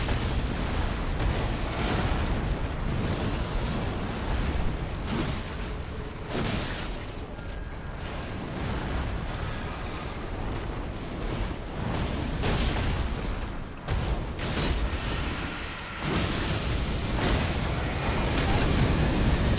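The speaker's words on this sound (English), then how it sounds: "Watch out for the rod explosion." A boss's rod explosion in the Elden Ring fight against Astel, Naturalborn of the Void, fills the space with a dense, roaring rumble of sustained blasts and crackling bursts. It stays loud throughout, with only brief dips in intensity.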